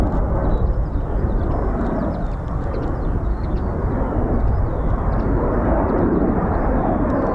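A Eurofighter Typhoon FGR4 jet comes in to land at RAF Coningsby, a loud, sustained jet roar with a whining high tone on top, steady throughout with no voices over it.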